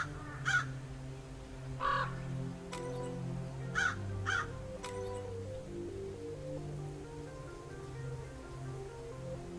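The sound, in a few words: crows cawing in video game Dracula's Legacy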